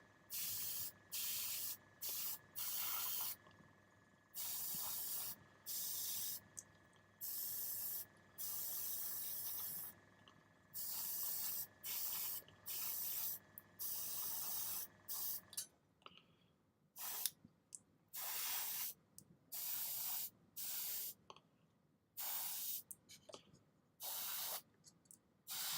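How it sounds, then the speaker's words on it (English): Aerosol spray paint applied to a Kratos Assault Tank model in short, repeated hissing bursts separated by brief pauses, close and fairly loud, with a faint background hum. "Now, the reason why I'm spraying it like that is because this is actually all glued in place"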